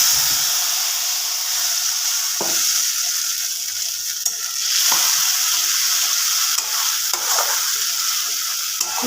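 Spice paste frying in hot oil with cardamom and clove while cauliflower roast is cooked, giving a loud, close, continuous sizzle broken by several brief stirring knocks.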